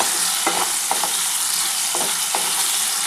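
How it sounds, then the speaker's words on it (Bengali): Long-cut potato strips fry in hot oil with a continuous close sizzle, broken by a few brief scraping stirs, and no one speaks. "আমি আলুটা ভেজে আগে তুলে নিচ্ছি"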